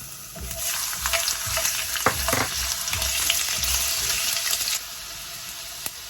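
Ginger sizzles and crackles steadily in about three spoonfuls of hot oil, with a few brief stirring scrapes and clinks partway through, loud and close, no voices.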